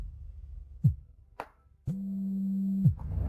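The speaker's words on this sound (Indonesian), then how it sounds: "Maaf, aku harus menjawab telepon." Several short electronic tones sound in an office meeting: a few brief chirps, then a long, steady ring lasting about a second, then a final short blip, with no voices over them.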